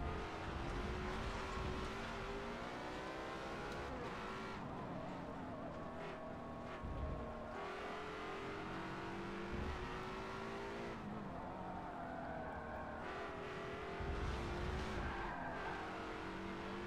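Race car engine in Forza Motorsport 7 holding a loud, steady high-speed drone with shifting pitch as gears change, alone with no talk.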